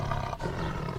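A tiger lets out a single short, loud roar, close and raspy, with a brief dip midway and no voices over it.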